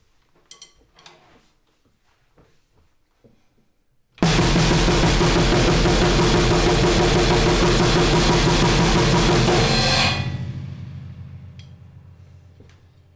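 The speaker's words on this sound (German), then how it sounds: "die Bassdrum und Snare Drum werden durchgehend gleichzeitig gespielt" After a few seconds of quiet, a dense, relentless drum blast beat erupts with kick and snare hammering together, then cuts off into ringing cymbal decay.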